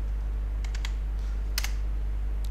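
A few keys tapped on a computer keyboard while a command is entered into a Windows 10 command prompt after installing MongoDB: two small bursts of quiet clicks over a steady low hum, with no talking.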